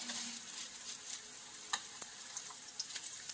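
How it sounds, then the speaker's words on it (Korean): Korean-Chinese nanjawanseu meatballs, pressed flat with a spoon, frying in hot oil: a steady close hiss of sizzling with scattered sharp pops and light utensil clicks, and no voices. "익혀낸 다음에 이걸 다시 튀겨내요."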